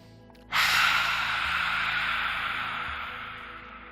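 A single deep, breathy inhalation during a yoga breathing exercise starts abruptly and stays loud and close for several seconds, slowly fading, with no talk over it.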